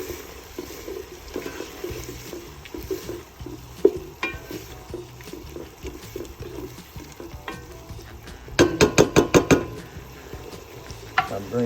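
Clam meat from freshly caught coquina clams is stirred into a simmering chowder pot, with soft wet stirring and faint bubbling, then a rapid run of scraping spoon strokes against the pot near the end.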